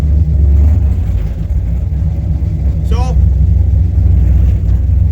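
A car engine fitted with FiTech fuel injection idles with a loud, steady low rumble throughout, while someone talks over it and a brief rising squeal cuts through near the middle.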